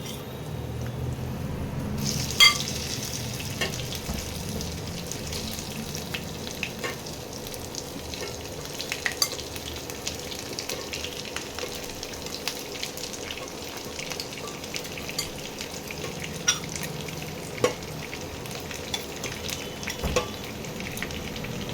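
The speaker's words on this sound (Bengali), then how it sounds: "এবার এগুলোকেও আমি লাল লাল করে ওভাবে ভেজে নেব।" Young jackfruit pieces fry in hot oil for shrimp and jackfruit, a steady close sizzle with a short sharp clink near the start and occasional soft crackles throughout.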